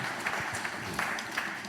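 Congregation clapping during a church service, a steady wash of applause with a few sharper claps standing out over a short stretch.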